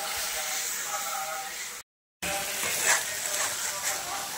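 Spices with salt, chilli powder and turmeric frying in a pan with cashews, giving a steady close sizzle and hiss with a brief cut of silence midway.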